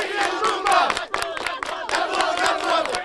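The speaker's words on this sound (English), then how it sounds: "the Gratuitous Friday Cheer is a bunch of people getting together and clapping and cheering" A crowd gathers around Willie's statue in Rice's central academic quadrangle for the Gratuitous Friday Cheer, clapping and shouting together in a loud, dense, steady roar of voices and claps.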